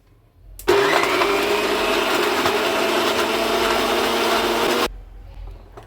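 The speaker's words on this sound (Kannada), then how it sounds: "ಇಷ್ಟನ್ನು ಇವಾಗ ಫಸ್ಟು ಸ್ವಲ್ಪ ಗ್ರೈಂಡ್ರ್ ಮಾಡ್ಕೊಳ್ತೀನಿ" An electric mixer grinder whirs loudly as it grinds flaxseed into powder, starting abruptly and running at a steady high-pitched roar for about four seconds before cutting off.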